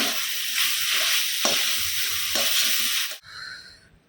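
Jute leaves (pat shak) fry in a pan with a loud, steady sizzle and a few stirring scrapes, then the hiss cuts off abruptly and fades to a quiet tail.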